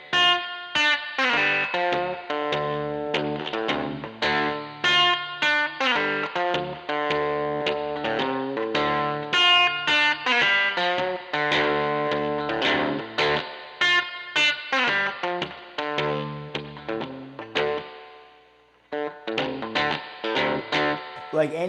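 Electric guitar played at lower gain with reverb, no delay or echo, a bluesy swamp-style lick of sustained chords and single notes; the reverb tail rings out audibly in the brief pauses, loud and close throughout.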